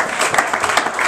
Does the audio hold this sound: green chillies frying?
no